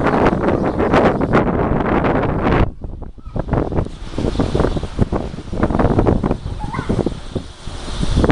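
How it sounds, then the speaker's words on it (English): Strong wind buffets the microphone outdoors during a windy week, a loud roaring rumble with gusty surges, a short lull near the three-second mark, then more blustery gusts. "it's been pretty windy all week"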